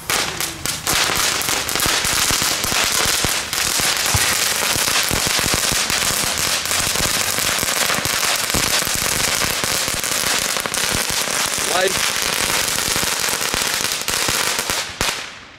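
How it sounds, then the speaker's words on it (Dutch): Strings of firecrackers burst in rapid crackling volleys among New Year's fireworks in a residential neighborhood, loud and dense almost without pause, with sharper individual bangs scattered throughout. "Ja, alle knetterlinten."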